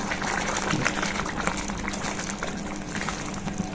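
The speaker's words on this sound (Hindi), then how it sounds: "ग्रेवी खदक गई है अच्छी तरह से।" Arbi curry gravy bubbling steadily in a pan, a continuous close simmering hiss and pop with no talk over it.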